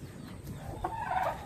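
Farm chickens cluck outdoors, soft at first, then a louder run of clucks close by toward the end.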